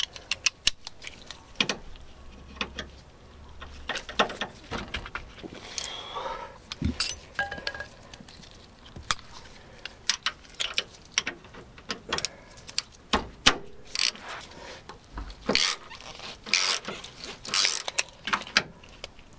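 A 13 mm spanner works on the anti-roll bar to chassis bolt of a Land Rover Discovery 2, with metallic clinks, ratcheting rattles and scrapes in irregular close bursts throughout.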